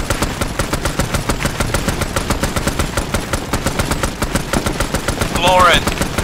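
Rapid machine-gun fire in a Vietnam War video game, a loud relentless burst rhythm of shots close by, with a rising whistle-like effect near the end and faint voices.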